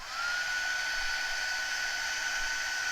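A hair dryer blows steadily and loudly to dry red permanent ink, a constant close whirring rush with a thin high whine that runs unbroken for the whole stretch, no voices.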